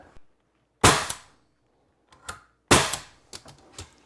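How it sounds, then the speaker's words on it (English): A nail gun fires nails into a bi-fold door frame: two loud, sharp close-up bangs about two seconds apart, with lighter clicks and taps of handling in between and afterward. "Just going to put 3 nails in it."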